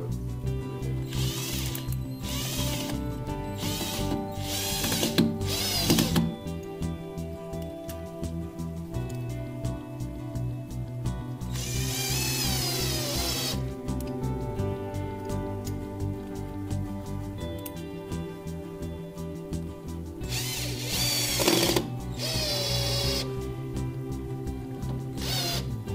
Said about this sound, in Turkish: Güzelce vidaları atabiliyorum.